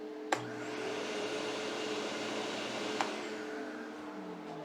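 An old shop vacuum runs with a steady, loud motor whine and airy roar, with a couple of faint clicks partway through and no talking.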